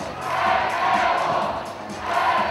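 A live student audience applauds and cheers at a university event, a steady wash of clapping and crowd noise holding throughout with a swell near the end.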